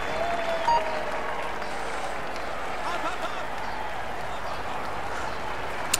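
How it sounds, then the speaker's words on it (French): Crowd applause at a start ramp in the Tour de France 2016 cycling video game, steady clapping and cheering at moderate level for the whole stretch. "Allez, on l'applaudit bien fort."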